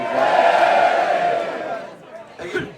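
A crowd cheers and shouts together at a celebration during a Cotswold outing, a loud sustained roar that fades away, followed by a brief burst of voices.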